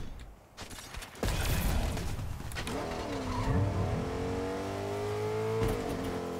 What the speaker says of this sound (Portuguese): eu vou pegar carro e vou adiantar também.